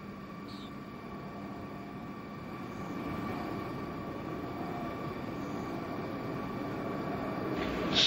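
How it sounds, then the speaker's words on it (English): Space Shuttle Endeavour approaches the runway for its final landing, a steady, distant roar of rushing air that slowly grows louder and fuller, with a faint hum running underneath and no voices. "a rear camera view of the Space Shuttle Endeavour as it's coming in for a landing"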